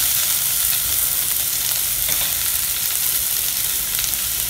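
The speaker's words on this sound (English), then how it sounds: "So, again fry them all together for a couple of minutes." Roughly chopped onion and tomato frying together in a pan, a constant, even hiss of hot oil, close and steady, with faint occasional crackles and no talking over it.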